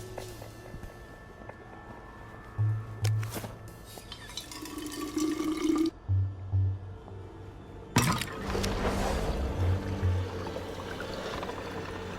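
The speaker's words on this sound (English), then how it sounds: "I'll need to filter some water." Water is filtered in the video game We Happy Few, heard as several short bursts of pouring and sloshing liquid separated by quieter gaps, with a fuller gush near the end.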